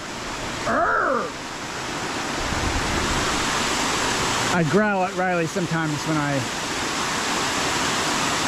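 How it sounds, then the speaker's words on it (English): Steady, broadband rushing of a waterfall on the Appalachian Trail fills the scene, close and constant, while someone talks and growls playfully over it. "waterfall up there, waterfall going down there"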